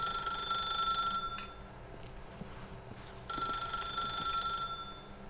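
An old-style telephone rings in the video game The Stanley Parable, a bright trilling bell heard in two bursts separated by about two seconds of quiet, moderately loud against a faint background.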